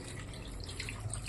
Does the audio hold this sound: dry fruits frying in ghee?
no